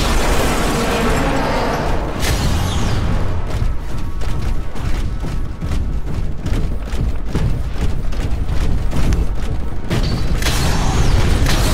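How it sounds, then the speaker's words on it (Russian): A Titan cannon fires in the video game Titanfall amid a dense barrage of loud explosions, bursts and booms that continue almost without pause, with mechanical clatter underneath and no talk. "Ожидайте выстрела титана."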